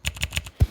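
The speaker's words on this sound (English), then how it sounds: "this sound, it's a keyboard sound" A custom mechanical keyboard gives three or four crisp, evenly spaced key clicks, close and clear, followed by one heavier, deeper thock as a final key bottoms out.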